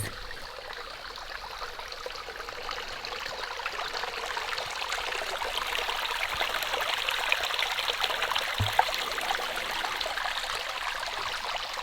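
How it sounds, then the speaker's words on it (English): Water flows steadily in a stream by a lagoon on a homestead in Portugal, a continuous bubbling rush nearby with no other sounds standing out. "And I can hear the water."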